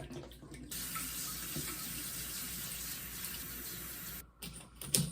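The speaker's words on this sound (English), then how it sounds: "now I'm gonna just fill her water bottle and water bowl" Tap water runs steadily into a hamster's water bottle, a continuous close hiss of flowing water that cuts off briefly near the end before a short splash.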